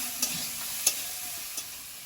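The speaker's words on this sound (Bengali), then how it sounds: "জিরে গুঁড়ো দিয়ে একটু ভালোভাবে ভেজে নেব।" Plantain and potato pieces fry in a pan with cumin powder, giving a faint, steady sizzle with three soft stirring scrapes spaced across the moment.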